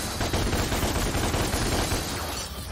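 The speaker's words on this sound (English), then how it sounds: "Oh, I can shoot the wings for a bit." Rapid gunfire at a harpy's wings in DmC: Devil May Cry, a dense, loud, continuous burst of shots that holds steady throughout.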